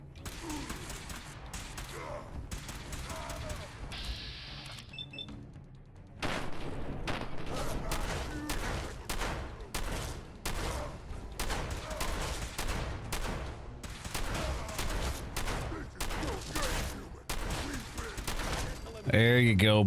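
Rapid gunfire from the video game Fallout 4, bursts of shots cracking in quick runs against a busy game soundscape, with someone talking at points.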